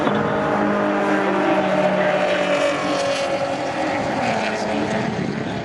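Race cars, a Honda Civic closely followed by a BMW, turn into Club Corner at Silverstone during a trackday trophy race. Loud, continuous engine roar with shifting tones is heard, with a commentator's voice running over it.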